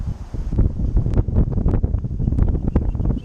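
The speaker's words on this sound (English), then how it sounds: "Wind's starting to pick up." Gusty wind blowing outdoors while an RV leak is being repaired, a steady low rushing roar buffeting the microphone close up, with soft rustling and small clicks over the top.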